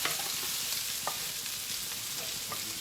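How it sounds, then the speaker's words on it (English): Chopped leek crackles and sizzles in a hot pan with oil for fried curry udon, a steady hiss broken by a few light clicks of stirring, close and without talk. "So I can also add in a little bit of leek for fragrance."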